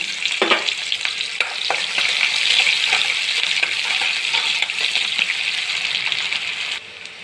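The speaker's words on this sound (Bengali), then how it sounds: "আমার লাল লাল করে পেঁয়াজগুলো ভাজা হয়ে গেছে" Onions fry in oil in a wok for mutton biryani, a continuous close sizzle with intermittent stirring scrapes, loud and even until it drops slightly near the end.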